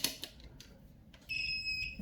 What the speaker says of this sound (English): Okay, so you can hear the sound. There is a beep